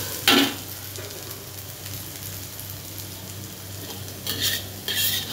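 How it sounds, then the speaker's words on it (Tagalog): Okra (ladies finger) frying with curry leaves for an Indian dish hisses steadily in the pan while a utensil stirs and scrapes against the metal, with a few sharper clatters near the end. "continuous lang siya ng paghahalo"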